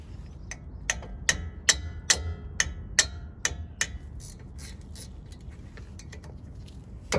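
Wrench ratcheting on the caliper bolts of a Ram 1500 front brake, a run of sharp metallic clicks at an uneven pace that fades out after a few seconds, close by over low background hum.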